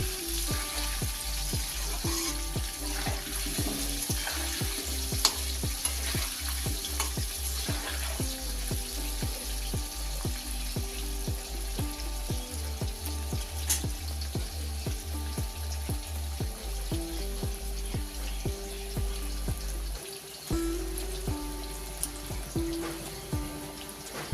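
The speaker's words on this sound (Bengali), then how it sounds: "আলুগুলো লাল লাল করে ভেজে নেব" Potatoes frying in hot oil in a wok for a spicy red chicken dish, giving a steady, dense sizzle that runs continuously for the whole stretch with no talk.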